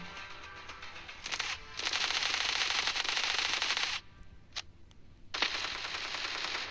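A machine gun fires in the video game Standoff 2. Long, dense bursts rattle loudly, break off sharply, and then resume after short pauses with a few isolated cracks between them.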